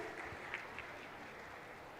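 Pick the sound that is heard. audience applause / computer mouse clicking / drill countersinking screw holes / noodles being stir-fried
audience applause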